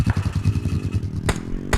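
A motorbike engine idles with a quick, throbbing putter, and near the end two sharp, noisy bursts cut in. The sound is close and fairly loud, with no talking over it.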